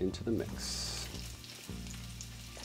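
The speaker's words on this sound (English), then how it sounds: "So this is all after the garlic has been sitting in the oil for a bit, turning a little golden brown" Garlic frying in oil in a pan for Chinese salt and pepper fish, a steady sizzle running throughout with a few clinks at the start, while a voice talks briefly over it.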